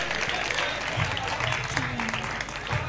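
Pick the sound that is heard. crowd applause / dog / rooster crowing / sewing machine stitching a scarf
crowd applause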